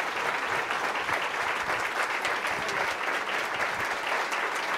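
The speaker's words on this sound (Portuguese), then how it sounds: "Recebamos ela com uma salva de palmas." A church congregation at an evening service welcomes a sister with a sustained round of applause, dense and even from start to finish, moderately distant, with no talking over it.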